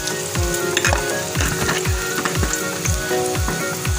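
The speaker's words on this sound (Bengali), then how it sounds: "বেগুনগুলো দিয়ে আমি এবার 5 মিনিট আমি ভেজে নেব" Eggplant pieces frying in a pan with jute greens, a dense crackling sizzle with rhythmic low spatula strokes scraping across the pan about twice a second, close and steady.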